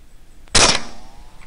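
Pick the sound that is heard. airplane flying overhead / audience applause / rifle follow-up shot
rifle follow-up shot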